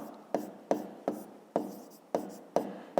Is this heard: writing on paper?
yes